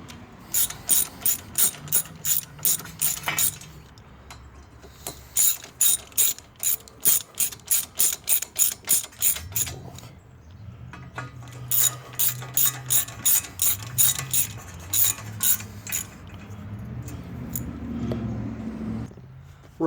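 A ratchet clicks in rapid bursts while tightening bolts on a 2013-2017 Ford Escape during a passenger-side CV axle replacement, close and crisp, with pauses and low mechanical clunks between the runs.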